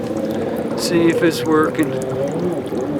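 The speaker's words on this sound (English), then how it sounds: "Put in some hot water," Hot water is poured into a 1987 Johnson 70 hp outboard motor with its thermostat removed, giving a splashing, gurgling pour with short bursts under a voice.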